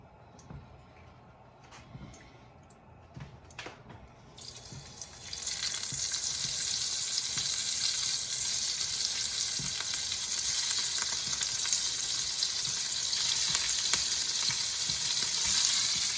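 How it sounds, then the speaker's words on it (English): Shrimp dropped into hot leftover bacon fat in a pan, bursting into loud, steady sizzling that continues unbroken after a few quiet clinks and taps. "I've got a little bit of the leftover bacon fat. And now I'm going to put my shrimp in."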